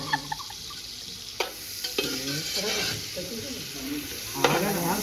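Food sizzling in a hot pan while being stirred, with scraping spoon strokes and a few sharp clacks over a continuous close fry; no talk.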